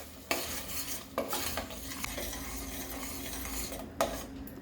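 Ground spice paste sautés in hot oil in a pan for a Kongu-style tomato kulambu: a soft, continuous sizzle with a utensil scraping and stirring against the pan in a few distinct strokes, no voices.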